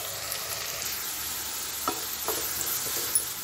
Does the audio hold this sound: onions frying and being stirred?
yes